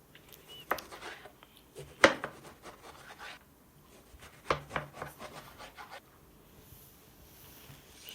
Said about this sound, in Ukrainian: Потім нарізаємо такими смужками. Не сильно товсто і не тонко.